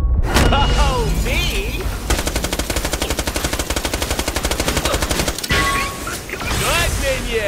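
Rapid automatic gunfire from Borderlands: The Pre-Sequel rattles loudly in a long sustained burst, framed by shorter shots and impacts, while character voices speak over parts of it.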